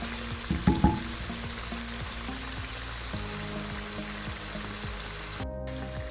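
Lobia curry masala fries and is stirred in a pan, making a steady close sizzle with scattered spoon scrapes and a few louder knocks near the start, no speech.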